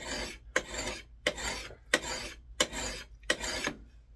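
A file rasps along the edge of a new Marbles camp axe in six regular strokes with short pauses between, each a close, gritty scraping sound heard alone.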